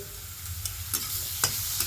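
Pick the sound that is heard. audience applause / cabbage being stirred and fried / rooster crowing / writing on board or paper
cabbage being stirred and fried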